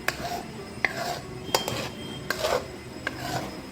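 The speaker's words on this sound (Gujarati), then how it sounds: "તો જો આપણે હજુ એને હલાવીએ છીએ જેથી એકદમ સરસથી આપણે માવો બની જાય" Thickened milk being stirred in a pan to make mawa (khoya), with a utensil repeatedly scraping and clinking against the metal at irregular intervals, close and moderately loud.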